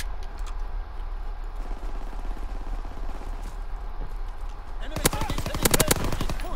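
Gunfire in Call of Duty WW2, including shots through a metal wall. A low rapid rattle runs under a steady background, then a loud burst of sharp close shots breaks out near the end.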